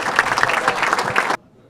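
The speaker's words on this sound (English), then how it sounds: "let's give a nice round of applause for both teams" Round of applause for both teams at a boys' semifinal basketball press conference at the Ryan Center, a dense burst of crowd clapping that cuts off abruptly near the end, with no talk over it.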